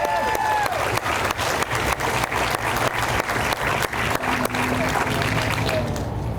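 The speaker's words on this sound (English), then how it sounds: "Come on, another round of applause for that." An audience claps through a round of applause at an Indigenous space dedication, a dense, even wash of many hands held steady for several seconds before it thins slightly at the end.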